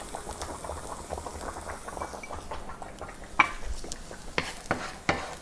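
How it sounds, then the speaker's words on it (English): Chopped onion being stirred in an oiled pan, with a soft steady sizzle under repeated scraping and clinks of a utensil against the pan, growing sharper toward the end. "And I'm going to stir that."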